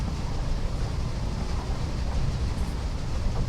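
A big locomotive hauls a short, partly loaded iron ore train in Train Simulator 2020 on the Bessemer Conneaut route, a steady, heavy rumble of engine and rolling wagons that continues unbroken, with no one speaking.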